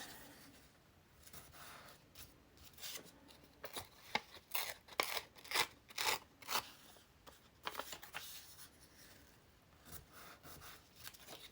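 Antique paper crinkling and tearing by hand without scissors in a cluster of sharp rips and rustles, close up, with quieter handling before and after; no talking.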